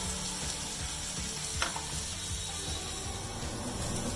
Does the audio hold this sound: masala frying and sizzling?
yes